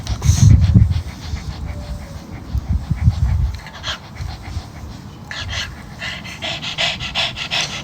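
A dog pants rapidly and heavily up close, with snuffling breaths that fade into quieter panting and light rustling.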